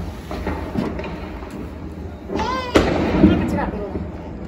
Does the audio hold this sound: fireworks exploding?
yes